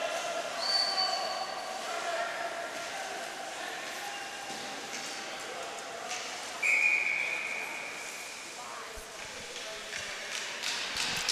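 A referee's whistle at an ice hockey quarterfinal game in an arena, two short shrill blasts over a steady crowd murmur, one early and one louder near the middle, with a faint voice in the background.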